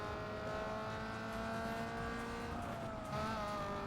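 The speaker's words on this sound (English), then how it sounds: "This thing doesn't really sound like a Civic to me." A Honda Civic engine in the racing game NFS Most Wanted Redux drones steadily at high revs, loud and continuous, with a brief pitch dip and surge near the end as it shifts or accelerates.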